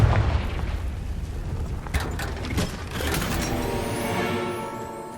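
In the video game Hogwarts Legacy, a Confringo spell goes off as a deep, rumbling explosive boom with crackling bursts that slowly fade into a lingering roar, no voices present.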